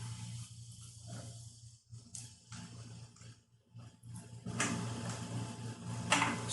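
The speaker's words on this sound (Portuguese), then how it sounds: "Na mesma máquina, eu vou vir no cantinho, passando uma costurinha de segurança, já prendendo o meu forro nesse meu tecido principal" A sewing machine runs a securing stitch to join lining to main fabric, heard as a close mechanical whir in bursts with short pauses, growing louder and busier toward the end.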